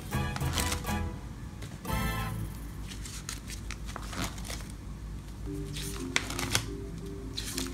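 Vintage 1990s Dragon Ball trading cards are handled and shuffled close up, giving dense papery rustling, flicking and sliding over about eight seconds, with some soft low background sound.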